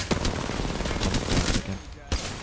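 Rapid automatic gunfire from Apex Legends shooting, a dense run of shots over about two seconds with a brief pause, then a final burst near the end.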